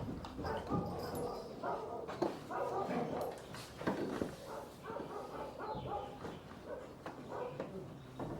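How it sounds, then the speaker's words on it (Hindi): Hunting dogs barking in a stage play production, repeated sharp barks and yelps over a noisy stage background with voices mixed in. "देव, कुत्तों का भौंकना बंद हो गया"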